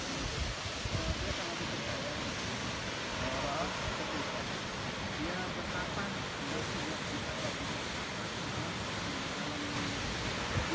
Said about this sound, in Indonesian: sekarang ini saya ada di air terjun Mangku Sakti